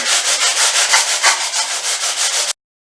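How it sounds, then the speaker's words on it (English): A block wrapped in fine sandpaper scrubs a painted pantry wall in quick back-and-forth strokes, making a loud, close, rhythmic raspy rubbing that stops abruptly. "So all I have is a little block with some fine sandpaper on it, and I'm just gonna give it a little scrub."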